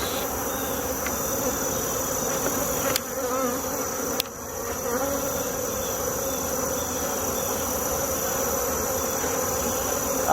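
Honey bees buzzing steadily at an open hive during a fall inspection, a dense, continuous close swarm drone with a couple of brief knocks from handling the frames.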